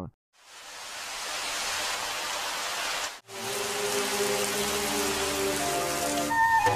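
Very heavy rain pours down in Egypt, a dense, steady roar of water that cuts out briefly midway and then resumes at full strength, with faint tonal sounds rising beneath it toward the end.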